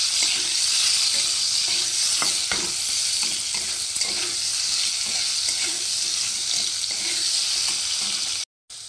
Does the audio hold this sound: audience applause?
no